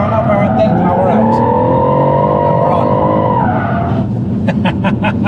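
A car drifts through a corner during a drift lesson, its tyres squealing in a long rising and falling howl over the engine's drone, then the throttle comes on near the end with a surge of revs while people talk over it.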